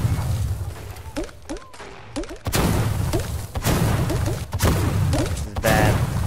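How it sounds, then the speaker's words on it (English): Egg launcher blasts in Fortnite Battle Royale: several loud, punchy explosive thuds spaced a second or so apart, with whistling projectile sounds and game noise between them. "Uh-oh, this guy has the egg launcher."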